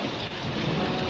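A thunderstorm plays back from a video, steady heavy rain and a low rumble of thunder forming a dense, continuous wash of noise with no voices.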